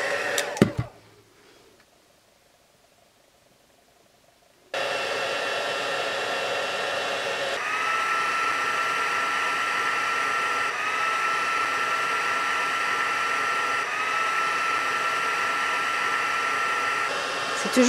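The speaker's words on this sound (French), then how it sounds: "Une fois que mon pistolet chauffant est chaud" After a short pause, a heat gun switches on close by and blows with a steady loud whooshing roar as embossing powder on a handmade card melts. Its pitch shifts slightly partway through.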